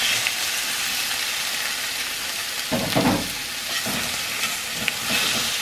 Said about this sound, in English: Now this it's gonna go pretty quick. So stir it for just like 10 seconds. And we add the shrimp.